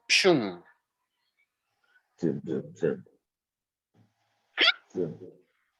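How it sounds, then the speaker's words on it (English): Someone hiccups a few times, short sharp vocal catches spaced apart in a quiet room, with some brief talk between them. "Oh, I got the hiccups."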